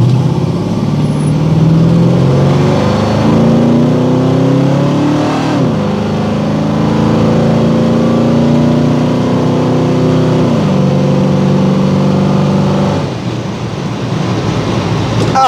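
A Ford 302 V8 car engine is pushed to full throttle, roaring loud and close with rising pitch sweeps as it accelerates through gears, dipping briefly between pulls before winding up again.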